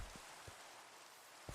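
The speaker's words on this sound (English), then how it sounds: "Because rain. Apparently that's a thunderstorm?" Steady rain hiss during a thunderstorm, a dense wash of drops with a few soft low thuds, fairly faint and continuous with no voices.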